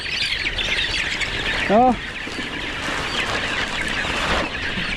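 Chicks chirp in a quick burst of a few rising peeps, set against steady broadband noise and nearby talk, as they are released into a range area to feed.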